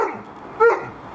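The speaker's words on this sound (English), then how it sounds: "What are you barking at?" A single sharp bark from a Bracco Italiano rings out close by, brief and loud against a quiet background.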